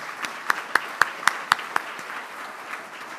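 A few people at a Rotary club meeting clap, a sparse run of seven or eight distinct, evenly spaced claps that fade out after a second and a half, leaving quiet room tone.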